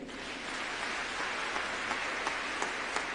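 A church congregation applauds a preacher, a steady wash of clapping from many hands that holds evenly for a few seconds with no voices over it.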